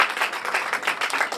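An audience claps their hands together in a short burst of applause at a teachers' association launch event, a steady patter of many hands, moderately loud.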